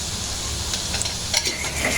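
Onion frying in a wok with salt and a little sugar added, a steady close sizzle and stirring with brief scraping clicks, no talking.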